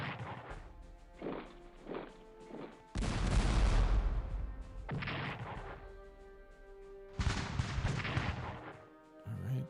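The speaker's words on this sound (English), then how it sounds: "Gunfire." Bursts of game gunfire and heavy booming artillery from Strategic Command: Russo-Japanese War come in several loud volleys, with rumbling explosions separated by short quieter gaps.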